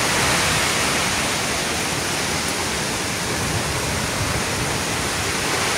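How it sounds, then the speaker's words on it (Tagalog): Strong storm wind and rushing floodwater around a farmyard make a loud, unbroken broadband roar that stays constant and close for the whole stretch, with no voices over it. "Ang lakas na ng hangin oh."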